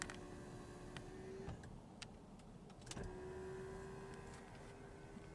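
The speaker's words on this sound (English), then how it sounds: "with this button you can raise or lower the rear sunshade" Electric motor of the rear sunshade in a 2014 Lexus ES 300h raising or lowering, a faint steady whine that runs in two stretches inside a quiet cabin, with a few small clicks.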